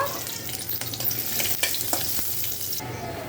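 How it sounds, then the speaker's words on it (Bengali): Garlic, cardamom, bay leaves and dried chillies frying in a little hot oil as a tempering, a soft steady sizzle broken by several sharp spatula scrapes and clicks against the pan. "এলাচ তেজপাতা শুকনা মরিচ আর একটু রসুনের কুচি এটা একটু ভাজা ভাজা করতে হবে"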